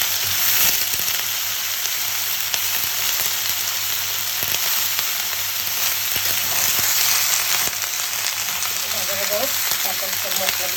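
Vegetables such as yardlong beans and potato fry in fish oil with spices, a loud, close, continuous crackling sizzle that holds steady throughout, with a few small clinks or stirring touches near the end.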